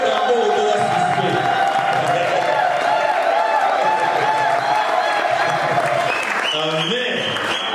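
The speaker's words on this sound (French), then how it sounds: "on célèbre Dieu avec le cri, avec des acclamations" A church congregation applauds and cheers loudly in continuous celebration, with whoops and shouting voices running throughout and a sustained tone near the end.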